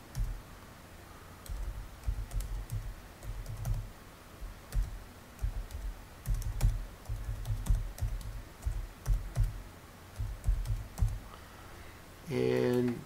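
Computer keyboard keys tapped in uneven bursts while entering an email address, close and moderately loud with short pauses between clusters, ending in a denser flurry of clicks.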